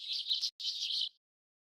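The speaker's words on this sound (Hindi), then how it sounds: "उड़ती हुई चिड़ियां दरवाजे से अंदर आईं" Cartoon birds twitter as they flutter in through a doorway: two bright bursts of rapid, high chirping, lively and close, then silence.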